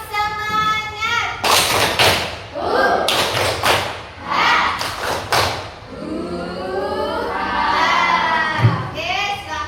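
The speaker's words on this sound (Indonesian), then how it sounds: "Yang semangat, tepuk semangat." Schoolchildren in a fifth-grade classroom do a rhythmic group clapping chant, bursts of loud claps alternating with their chanted voices and a teacher speaking, all close and lively.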